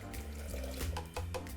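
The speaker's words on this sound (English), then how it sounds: "I'm adding 2 cups of fresh water" Fresh water pours steadily into a blender jar over soaked almonds for almond milk, a continuous close splashing gurgle with a few brief bubbling surges.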